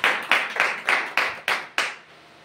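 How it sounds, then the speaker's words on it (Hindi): Hands clap in unison for Jesus at a church gathering, with seven sharp group claps in a steady rhythm, each followed by a brief decay, before a sudden stop into quiet. "तो फिर से एक बार प्रभु यीशु मसीह के लिए एक बार ताली बजा दीजिए।"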